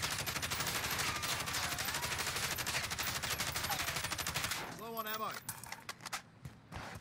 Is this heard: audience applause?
no